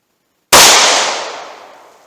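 A single loud .38 Special gunshot fires a standard-pressure Speer Gold Dot 125 grain round from a short-barreled handgun, a sharp close blast after silence that decays into a fading echo.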